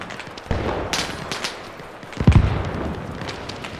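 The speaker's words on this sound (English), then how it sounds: "I got an automatic weapon." Scattered gunfire from an automatic weapon in Arma Reforger cracks out in several sharp bursts over a noisy outdoor game backdrop, the loudest volley arriving near the end.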